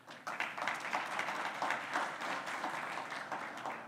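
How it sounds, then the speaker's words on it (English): Applause from the audience at the 7th EAC aviation symposium, a soft, fairly distant patter of many hands clapping steadily for about four seconds with no clear voices. "give a big round of applause to all the countries that have adopted this system"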